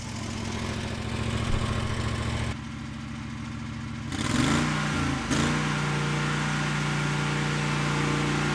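A Husqvarna V548 stander lawn mower runs with a loud, steady engine drone while mowing. Its tone shifts briefly midway, then settles back into a constant close roar.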